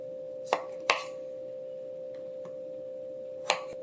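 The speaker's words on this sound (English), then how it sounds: "We're going to quarter our limes." A knife quartering limes on a cutting board, a few sharp, sparse chopping knocks at irregular intervals over a steady electrical hum.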